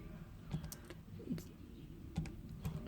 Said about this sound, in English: So we're going to use our calculator. You type in y1 and then you do math 9